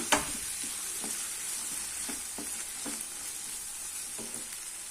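Squeezed juice of a large lemon hits a hot tempering for vegetable lemon rice and fizzes in a steady close sizzle. A spoon lightly taps and stirs the pan now and then.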